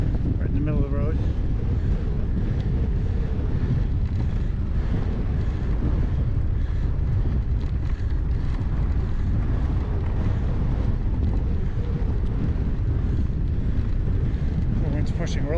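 Strong storm wind roars and buffets continuously during a bicycle ride, a loud, dense rumble of wind noise filling the whole stretch with little break.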